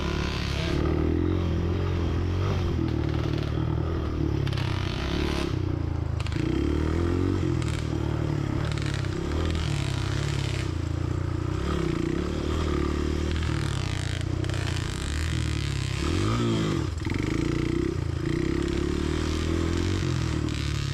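A vintage four-stroke Honda dirt bike engine drones and revs while riding a cross-country trail, loud and continuous, with throttle swells, clattering, and scraping underneath.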